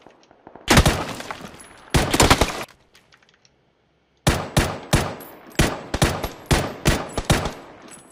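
Loud bursts of game gunfire, two rapid automatic volleys, a brief pause, then a steady string of single shots close by.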